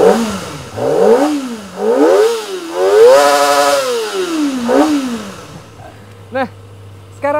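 A Kawasaki Ninja ZX-25R four-cylinder sport motorcycle engine starts and revs hard several times in rising and falling sweeps, then drops to a steady idle with a couple of quick blips.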